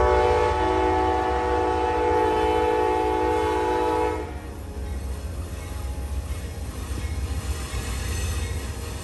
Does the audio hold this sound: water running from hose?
no